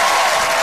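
Dense, loud applause from an audience welcoming a comedy singing duo to the stage, a brief continuous wash of clapping.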